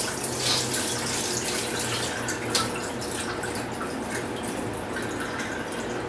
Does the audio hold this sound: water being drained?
yes